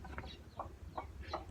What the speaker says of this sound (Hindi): देखो मुर्गी भी आ चुकी है